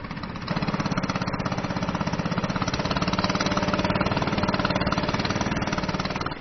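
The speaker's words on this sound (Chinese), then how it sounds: "听到船的马达声" A small boat's motor chugs steadily and loudly throughout, a rapid pulsing engine drone approaching sea cliffs on a Thai bird's-nest island, with no talk.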